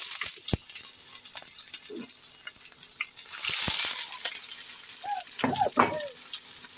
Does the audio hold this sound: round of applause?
no